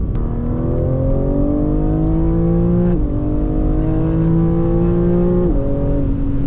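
A 2022 BMW M3 Competition G80 with its transmission in the most aggressive mode pulls hard and loud, the engine note climbing steadily through the revs with two quick upshift drops, no talk.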